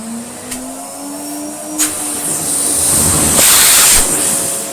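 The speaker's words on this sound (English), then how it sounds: "show you how the motor sounds now. It's not a silent machine, I have to confess, but crikey is it powerful" Restored French Moulinex E59 vacuum cleaner motor running at about 400 watts: a loud, steady whine and airy hiss whose pitch slowly rises, with a couple of brief knocks and a swell of rushing air near the end.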